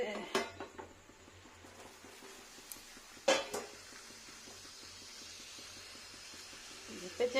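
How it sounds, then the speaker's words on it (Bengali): A lid comes off a cooking pan of semolina, potato and tomato, with a sharp metallic clank near the start and another mid-clip, over soft kitchen rustling. "ঢাকাটা খুলতে হবে দেখতে হবে কেমন হচ্ছে"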